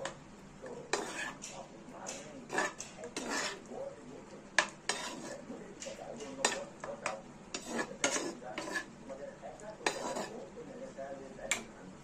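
A spoon stirs prawn rezala with rose water and kewra water in a metal pot, giving irregular clinks and scrapes against the sides over a faint simmer, close and fairly quiet for about twelve seconds.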